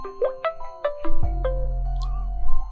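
A mobile phone rings as a call is placed. A short melodic run of bright electronic tones plays, then a low steady hum sets in under a final high chime.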